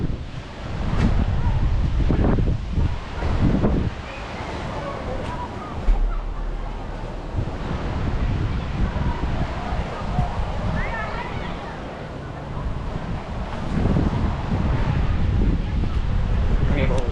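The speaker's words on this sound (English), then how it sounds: "The wind really picked up" Strong wind buffets the microphone in a heavy, gusting rush with surging waves beneath, loud and steady throughout with swells of stronger gusts.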